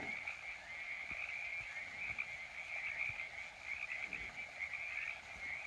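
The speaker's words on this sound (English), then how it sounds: "the sounds of the bugs and the birds and frogs and whatever all that chorus is" On the Pacific Crest Trail, a steady night chorus of croaking frogs and birds over a continuous high insect drone, faint and distant, with no voices.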